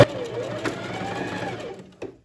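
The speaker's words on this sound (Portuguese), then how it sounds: "Aí faz uma costura de retrocesso." A sewing machine runs a short backstitch at the end of a cuff seam on a puffed long sleeve, a steady close whirring hum that stops near the end.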